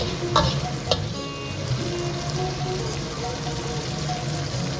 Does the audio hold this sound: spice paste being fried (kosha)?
yes